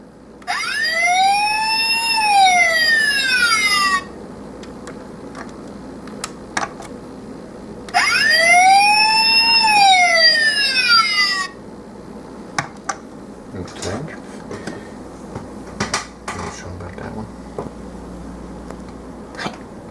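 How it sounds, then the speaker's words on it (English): Two bursts of a wailing electronic siren from a Transformers Sentinel Prime toy robot, each about four seconds, separated by a pause, followed by scattered small clicks and taps. "And then you'll get the siren sound."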